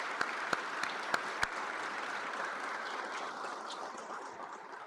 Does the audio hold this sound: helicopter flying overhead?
no